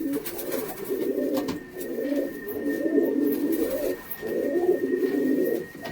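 Chatiyal Sakduma pigeons coo in repeated low, throaty rolling phrases, four or five bursts with short gaps, close by and steady against a faint background hum.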